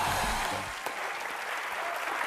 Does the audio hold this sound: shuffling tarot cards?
no